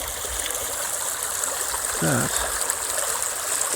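A wilderness river on a cold, foggy morning flows with a soft, steady rushing and trickling hiss, heard close; someone says a brief word partway through.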